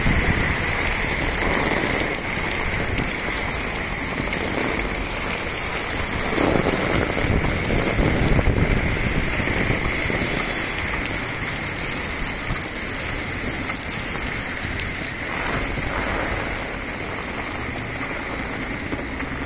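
Light but steady rain with gusty wind falls on a Dhaka street during Cyclone Remal, a loud, continuous wash of raindrops close by, with no voices.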